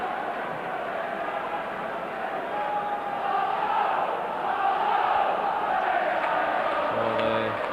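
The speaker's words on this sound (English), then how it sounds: "So the Rangers crowd trying to lift their team." Rangers supporters in a packed stadium during a 1993 Champions League match against Club Brugge roar and chant in a broad, distant wall of crowd noise that swells midway.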